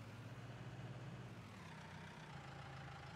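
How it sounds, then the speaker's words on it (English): A fire chief's command unit vehicle pulling out, heard as a low, steady engine rumble from a distance that holds constant throughout without any voices. "the fire chief command unit is going out"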